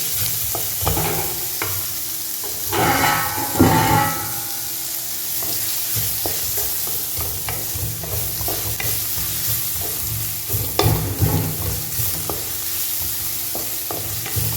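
Tomatoes frying in a kadai for restaurant-style kadai chicken, with steady loud sizzling and repeated scraping stirs of a spoon against the pan, a burst of heavier stirring early on, no voices.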